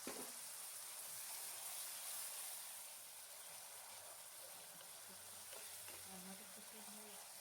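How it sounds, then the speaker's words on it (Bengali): A spice paste of ginger and chilli sautés in a pan with a splash of water for a vegetarian banana flower dish, giving a soft, steady sizzle and stirring hiss that stays faint and even throughout. "মশলাটা যাতে পুড়ে না যায় আমি অল্প একটু জল দিয়ে এটাকে আরেকটু করে কষিয়ে নেব।"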